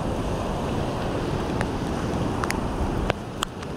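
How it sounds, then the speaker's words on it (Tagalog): Waves wash steadily against a shoreline with flowing water, a continuous broadband surf roar mixed with wind buffeting, and a few faint clicks near the end; no one speaks. "Yan oh, agos ng tubig."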